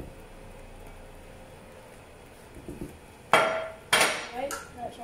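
Leftover tomato sauce being scraped from a pan with metal utensils, a couple of loud clanking scrapes after a quiet stretch of soft background noise, followed by lighter tapping.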